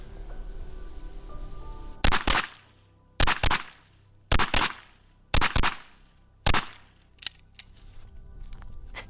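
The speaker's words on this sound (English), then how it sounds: "we'll try some double taps over here" Handgun fired in quick double-tap pairs at an outdoor shooting range, five loud sharp pairs of close shots spaced about a second apart, then a fainter single report, with a steady hum underneath.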